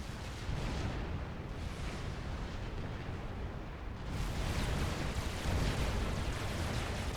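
Unit detonation explosions in the Supreme Commander 2 strategy game: a heavy, continuous roar of blasts and rumbling booms, intensifying partway through, loud and without talk.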